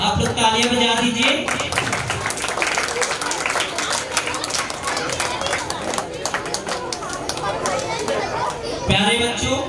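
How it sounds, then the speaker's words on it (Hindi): A large audience claps steadily at an Ambedkar Jayanti celebration held by Dr Ambedkar Classes on 14 April, with dense, loud applause running almost the whole time and crowd chatter mixed in. "आप लोग तालियां बजा दीजिए।"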